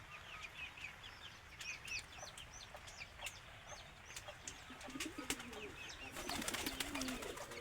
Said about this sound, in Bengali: এই এদিকে কবুতর আছে